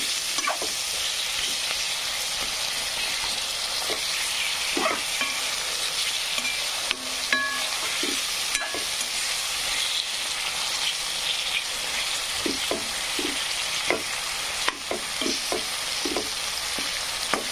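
Chopped tomatoes fry in a pan with a steady, hissing sizzle, broken now and then by soft clicks and taps of a spoon stirring through them. No one speaks.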